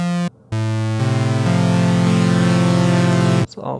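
A Nimbus digital polyphonic synthesizer holds sustained buzzy tones, with its four voices entering one after another and stacking into a thick droning chord before stopping abruptly.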